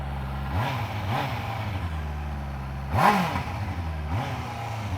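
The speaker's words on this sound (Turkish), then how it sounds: "son susturucu muazzam bir tork kontrolünün yanında aynı zamanda harika bir sese de sahip" An inline-four motorcycle engine idles with a low burble through its exhaust, then revs sharply several times in quick blips, the loudest near the middle.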